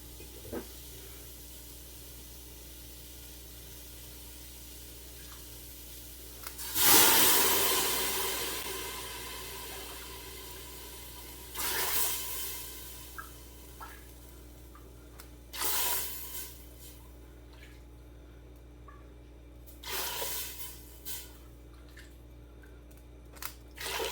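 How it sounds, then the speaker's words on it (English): Broth poured into a hot pot of seasoned ingredients: a sudden loud hissing rush that fades over several seconds, followed by a few shorter, softer splashes and hisses against quiet background hum. "And then I'm gonna add 7 cups of my broth."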